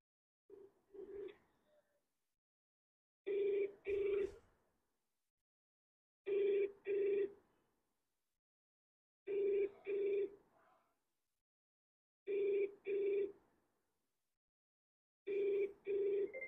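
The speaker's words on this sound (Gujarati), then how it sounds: "હવે આપણે ફોન કરીએ હે નીલભાઈ ને, નીલભાઈ ચાવડા." Ringback tone on an outgoing phone call: a double-pulse ring repeats about every three seconds, five or six times, steady and clear with silence between the pairs.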